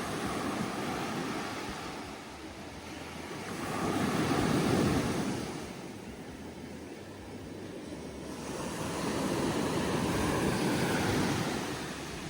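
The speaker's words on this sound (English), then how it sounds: "spent some more time into the blues with all the peace and calming sound of the ocean on my ears" Ocean surf rolls in at Kashid beach on the Konkan coast near Alibaug, a steady roar that swells and recedes in slow waves, with wind buffeting the microphone and no voices.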